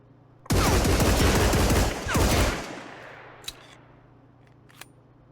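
An SVT-40 rifle fired in the game Marauders: two loud, dense bursts of rapid shots with long reverberant tails, then a couple of sharp faint clicks.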